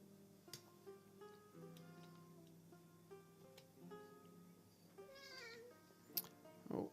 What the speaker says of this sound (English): apologies if you hear some meowings coming from the general direction of the recording